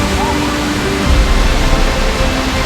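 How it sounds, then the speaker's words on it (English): Steady broadband rush of a waterfall on Blue Hole Trail, loud and continuous throughout with a slight swell midway, no voices over it. "This is a pretty badass waterfall right here."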